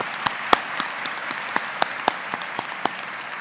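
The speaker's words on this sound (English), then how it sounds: "please join me in just a round of applause to celebrate the successes of the Commission this year" Sparse, scattered clapping from a small audience at a pharmacy credentialing town hall meeting, a handful of separate claps ringing out at irregular intervals with no voices.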